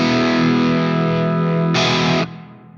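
A 2026 Ibanez RG653DX electric guitar with its tone knob rolled back holds a loud, dark distorted chord, then a brighter strum that is quickly muted, leaving a fading ring.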